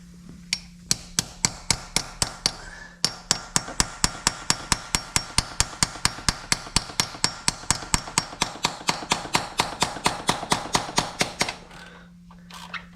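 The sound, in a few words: hammering on a Ford 5.4 Triton engine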